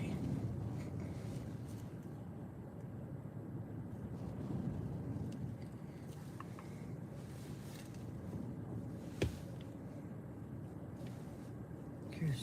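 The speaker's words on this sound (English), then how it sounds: "It's pretty windy." Strong wind blows outdoors while storm chasing, a continuous low roar and microphone buffeting that holds steady for the whole stretch, with a faint voice underneath.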